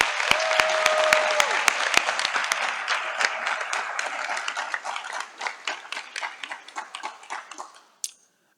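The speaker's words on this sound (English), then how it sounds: "Please give them a round of applause." An audience at Lincoln University of Missouri's opening convocation applauds the band and choir, loud dense clapping that gradually thins into scattered claps and ends with a sharp final clap.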